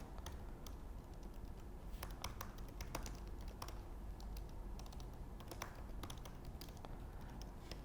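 Fingers tap out a steady run of keystrokes on a computer keyboard while filling in a sign-up form, the clicks coming in quick uneven bursts with short pauses between words, close and clear with no talking.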